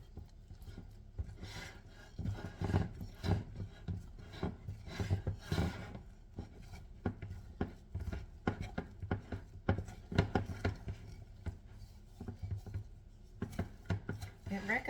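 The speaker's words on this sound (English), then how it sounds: "mix this all together." Pumpkin spice cake mix cookie dough being stirred in a bowl, a faint steady scraping and thumping with irregular rhythm, close by.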